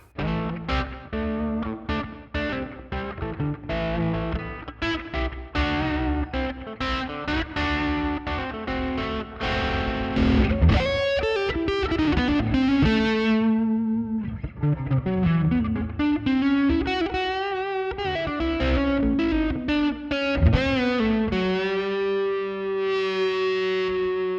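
An early-80s Phoenix Les Paul copy electric guitar plays a sustained lick through a light overdrive with chorus and echo, notes ringing and bending continuously with no talking.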